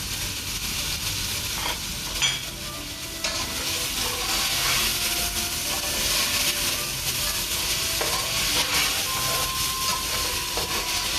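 Chopped onions sizzle steadily in a pan for mutton yakhni pulao, with a constant frying hiss and occasional scraping stirs throughout, close and fairly loud.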